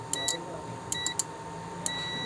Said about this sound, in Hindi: जब मैंने 12 वोल्ट डीसी दिए तो मीटर बज़र पे है, कोई ना कोई साउंड शो कर रहा है।